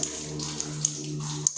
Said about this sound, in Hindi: अभी हम पानी चालू करेंगे।